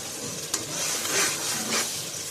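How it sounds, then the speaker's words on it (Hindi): Frozen tomatoes with a spoonful of garam masala sauté for matar pulao, producing a soft steady hiss with the scrape of a spoon stirring through the mixture. "इसमें 1 चम्मच गरम मसाला की ऐड करके इसको अच्छे से भून लें"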